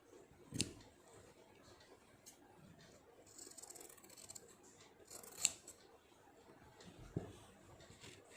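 Scissors make a few distinct snips while cutting fabric sewing patterns, spaced seconds apart against a quiet room background.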